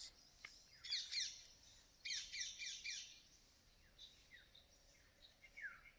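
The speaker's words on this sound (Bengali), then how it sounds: "দেখতে পাচ্ছ টিয়া পাখির কান্নার আওয়াজ" A flock of green parrots squawking in jungle, shrill harsh calls arriving in two loud bursts early on, followed by scattered fainter chirps, fairly close with little else in the background.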